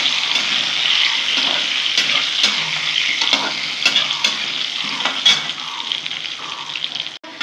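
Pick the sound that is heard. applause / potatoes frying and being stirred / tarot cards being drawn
potatoes frying and being stirred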